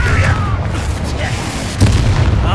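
Bombarda blasting spell going off in the Hogwarts Legacy game, a booming explosive hit over a steady rumble of game music and effects, with a second burst near the end.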